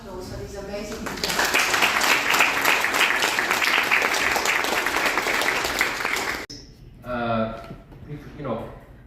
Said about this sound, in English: please can we have a round of applause for these amazing people